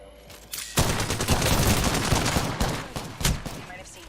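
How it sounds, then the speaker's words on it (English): Sustained bursts of automatic gunfire from the video game Apex Legends sound loud and close, with rapid shots blurring into a dense roar that briefly dips and resumes. "I'm taking shots."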